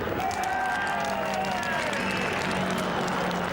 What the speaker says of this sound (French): le public salue l'exploit par un tonnerre d'applaudissements